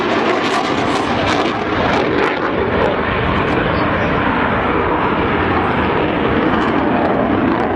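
Loud, continuous roar of a Rafale fighter jet's engine in flight, steady and broadband throughout, with some voices faintly mixed in.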